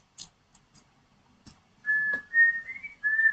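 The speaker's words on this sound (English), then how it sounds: "Sorry for me whistling, I just like whistling" A few soft ticks, then a person whistles a short melodic phrase of clear, sliding notes, close and fairly loud.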